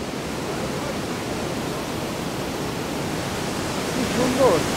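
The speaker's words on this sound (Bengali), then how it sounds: "এখান থেকে আবার আমরা চলে আসলাম সেই জলপ্রপাতের একদম কাছে।" Roaring water of the Rhine Falls in Switzerland heard from very close, a steady, loud broadband rush that holds evenly throughout, with a brief voice-like sound rising near the end.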